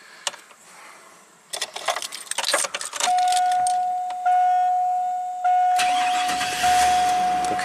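A GM Chevy V8 with an intermittent crank-no-start fault, heard after some clinking as keys and tools are handled: the starter cranks briefly, then the engine fires and settles into a steady idle with a constant whine close by.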